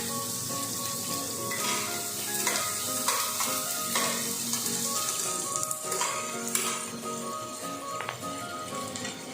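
Chopped onion joins lightly browned garlic in hot oil, bringing a continuous bright sizzle close by, with stirring scrapes and occasional clinks of a spatula against the pan.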